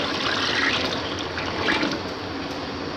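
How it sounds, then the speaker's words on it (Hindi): Water is poured from a jug into a pot holding 3 kg of rice for chana chawal, a steady, close, rushing splash that lasts throughout. "3 किलो चावल थे, इसलिए हमने 3 जग पानी ऐड कर लेने।"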